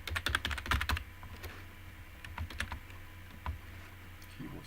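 Computer keyboard used for C# programming clatters with rapid, close typing that is dense at first, then turns into looser, intermittent key presses.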